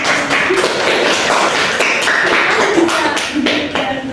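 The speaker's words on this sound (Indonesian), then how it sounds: "Tepuk tangan, bisa berikan tepuk tangan." Students in a classroom clap together in a quick, uneven patter that sounds close and fairly loud, with a few voices murmuring underneath.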